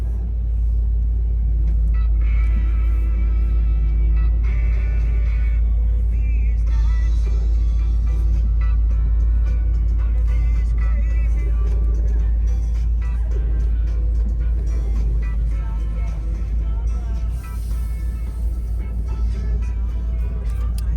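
An OBS Ford Bronco engine idles after starting, a loud, steady low rumble that continues without a break, close by and with no talking over it.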